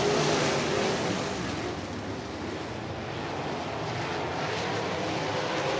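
Several USAC AMSOIL National Sprint Cars roar around the Red Dirt Raceway dirt oval at night, a dense, steady engine wash blurred by wind and crowd ambience with no distinct passes.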